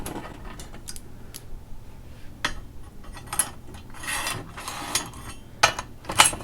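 A bearing slides into a freshly welded and cleaned metal part in a workshop, giving a run of small, close metallic clicks and scrapes with brief louder knocks near the end.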